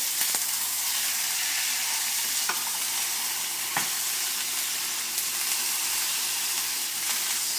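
Beef sizzles and fries steadily in a pan on the stove for dirty rice, a loud continuous crackling hiss with a few sharp pops and stirring scrapes, no talking.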